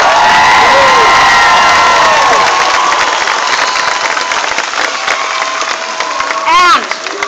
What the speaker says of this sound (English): So let's give Norman and the Congressman a round of applause.